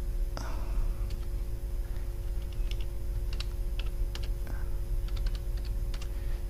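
Irregular clicks of a computer keyboard being typed on while configuring a router, light close keystrokes in small clusters over a steady low hum.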